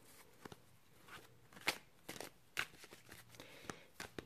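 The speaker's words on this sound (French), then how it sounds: "on va commencer à mélanger les cartes." Tarot cards shuffled by hand, a quiet sequence of soft riffling slaps and rustles in an irregular rhythm, close and faint.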